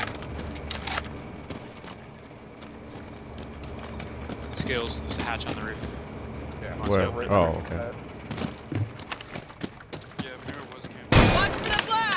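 Weapon reload in Rainbow Six Siege: scattered mechanical clicks and clacks of handling a gun amid game noise and occasional shots, with voices talking through the middle and a sharp burst near the end.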